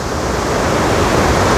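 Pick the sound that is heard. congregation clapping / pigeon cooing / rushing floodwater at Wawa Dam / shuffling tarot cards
rushing floodwater at Wawa Dam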